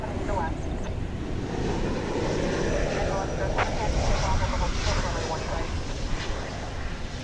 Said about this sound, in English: A Spirit Airbus A321 Neo coming into focus here.